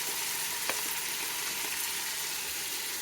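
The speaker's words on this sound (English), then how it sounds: "I'm just browning the hamburger meat" Hamburger meat browns in a pan with an even, continuous sizzle and a faint tap or two from a utensil, close and steady throughout.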